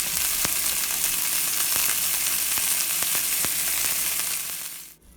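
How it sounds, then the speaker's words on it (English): A beef roll for braciole sears loudly in a hot pan, a steady, dense sizzle with a few pops, cutting off abruptly at the end. "So once the beef has finished searing"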